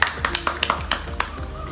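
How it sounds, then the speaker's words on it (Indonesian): A group of students claps in a school classroom, a short run of sharp, loosely timed hand claps close by, with a voice faintly underneath. "Jadi, Dila hebat, tepuk tangan."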